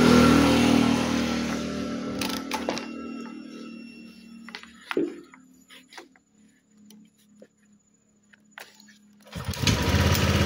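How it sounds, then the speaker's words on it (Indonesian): Honda Vario 150 scooter engine idling and revving after its failed ECU was replaced, a loud buzzing run that fades to near quiet, with scattered clicks, then a renewed rev at the end. "Motor sudah hidup normal."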